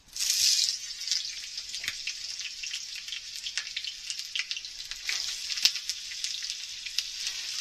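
Potatoes and mixed vegetables crackle in a small amount of mustard oil in a wok, a bright, steady sizzle with scattered pops heard close up, with no talking.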